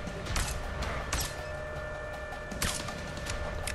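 Gunfire in the video game A Way Out, with several sharp broadband bursts at irregular intervals over a steady background of game ambience and hum.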